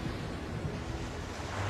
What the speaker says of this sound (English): The ocean is my dominion.